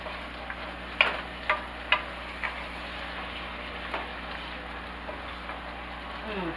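Vegetables for beef and barley soup cooking in a pot: a quiet steady sizzle with a handful of soft clinks and taps from stirring, spaced a second or so apart, close and faint.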